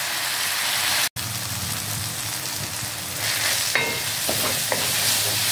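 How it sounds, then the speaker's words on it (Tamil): Onions and tomatoes sauté in a pan for a green turkey-berry spicy curry, a steady sizzle with soft stirring scrapes throughout, one sharp brief dropout near the start, no talk. "வெங்காயம் தக்காளி நல்லா வதங்கிடுச்சு"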